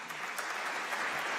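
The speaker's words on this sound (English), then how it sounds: "good round of applause." A crowd at a community awards ceremony gives a short, steady round of applause, dense clapping with no voices on top.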